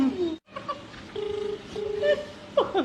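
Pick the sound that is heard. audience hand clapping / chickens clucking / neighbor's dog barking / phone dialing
phone dialing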